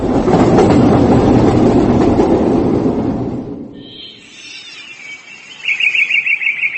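Train running as a horror-story sound effect: a loud, rumbling clatter of a moving train that fades away, followed by high, pulsing alarm-like tones.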